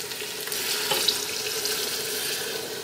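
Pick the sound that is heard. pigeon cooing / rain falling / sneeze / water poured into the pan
water poured into the pan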